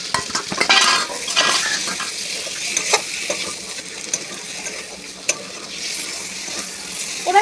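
Fried potatoes being stirred into a sizzling chicken kasha curry, with a continuous hiss of frying under irregular spatula scrapes and metal clinks against the pan, close up.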